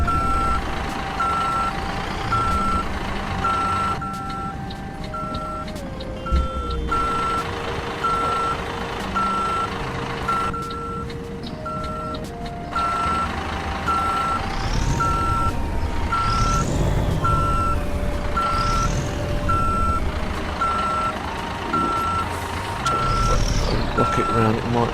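Volvo F16 truck backing up in American Truck Simulator, with a steady, evenly spaced reversing beep pulsing throughout over the engine's rumble and shifting revs, while someone talks now and then.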